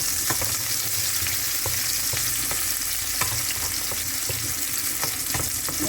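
Onions sizzle in heated oil with a dense, continuous hiss and frequent small crackling pops, near and steady, with no talking.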